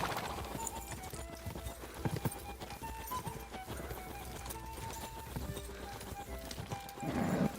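Galloping horse hooves in Kingdom Come Deliverance 2, a steady rapid clip-clop running throughout with occasional whinnies, set under continuous background game sound and music.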